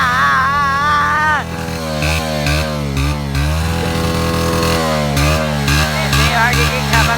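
A vehicle engine is started up and runs loud and close, with a rough, rising and falling sputter; a voice can be heard over parts of it.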